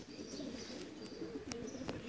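Racing pigeon back from a 440 km race, cooing softly in a loft with a few brief higher chirps over a steady low murmur, no talk.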